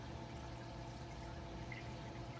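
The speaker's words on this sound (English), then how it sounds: "I'm able to run a quiet trickle, though it's not perfectly tuned in as you can hear right now" A quiet, continuous trickle of water runs through the plumbing of a reef frag tank, faint and steady with a low hum underneath and no speech.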